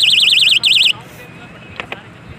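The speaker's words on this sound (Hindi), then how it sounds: "काफ़ी दूरी होने के बावजूद भी पटरी को हिट करने पर हमारा जो बजर है वो साउंड प्रोड्यूस कर रहा है।" A knock-activated doorbell buzzer on a railway track sounds a loud, warbling electronic tone for about a second, cut by a brief gap, then stops, leaving faint outdoor background and a couple of short knocks.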